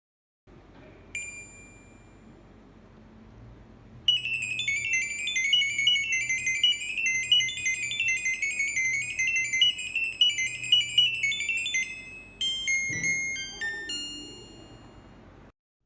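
LG inverter air conditioner indoor unit with a fan operation error, in diagnosis mode, playing a rapid electronic melody of high beeping tones for several seconds after a few isolated dings, ending in scattered chirps.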